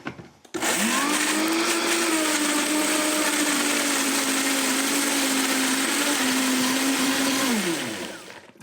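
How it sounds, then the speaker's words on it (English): A blender whizzes raspberries with sugar, starting abruptly and holding a loud, steady whirring drone for about seven seconds before winding down and stopping. "all I'm going to do is whiz them up"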